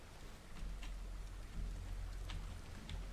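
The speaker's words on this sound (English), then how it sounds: "is it still raining inside?" Steady rain falls in the farming video game Farmer's Dynasty, a constant broadband hiss with soft scattered drops and a low rumble beneath, heard alone without voices.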